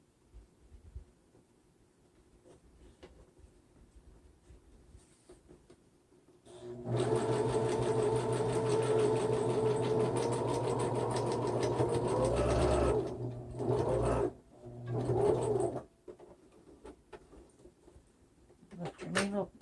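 A sewing machine stitches steadily at close range for about six seconds, a continuous mechanical whir, then stops and gives a few short bursts, with quieter handling noises before and after.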